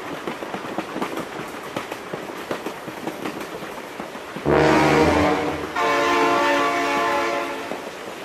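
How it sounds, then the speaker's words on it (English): A BeamNG.Drive video game train rumbles with clattering wheel beats, then its horn blasts twice, loud and close, with a short break between the blasts. "my god, train!"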